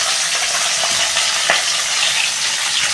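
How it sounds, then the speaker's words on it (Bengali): Pieces of a large, five-kilo rui fish fry in hot oil, giving a loud, close, continuous sizzle with faint spatters and a brief clink partway through. "আমি এবার মাছটা ভেজে নিচ্ছি"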